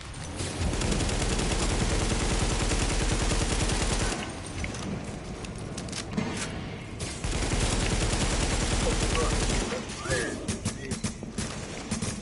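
Sustained bursts of automatic gunfire in the video game The Division, fired at an enemy's tank, loud and continuous for about four seconds, then scattered shots, then another long volley and trailing pops.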